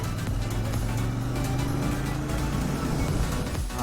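A Royal Enfield Interceptor 650 twin cruises at a restrained speed on a highway ride, its engine a steady, continuous low drone with broadband road and wind noise throughout.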